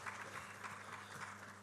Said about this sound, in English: Please, a round of applause for that exceptional remark by the Permanent Secretary